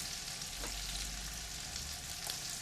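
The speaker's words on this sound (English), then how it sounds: "While the bacon sizzles away" Bacon rashers sizzle and crackle steadily in a frying pan, a continuous close hiss with small pops and no talking.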